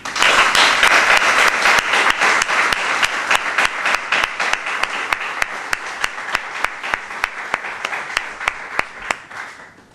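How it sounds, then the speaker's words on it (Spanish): Audience applause at a novel's book presentation in Águilas, a full burst of clapping that slowly thins out to a few scattered, evenly spaced claps before stopping. "me gustaría pedir un aplauso"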